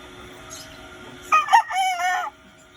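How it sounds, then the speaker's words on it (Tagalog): An old Boston Roundhead brood cock crowing once in a backyard, a loud close cock-a-doodle-doo lasting about a second over quiet background. "So ito nga pa na mga idol yung matandang brood cock nila."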